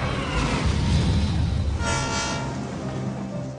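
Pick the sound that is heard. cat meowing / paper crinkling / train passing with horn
train passing with horn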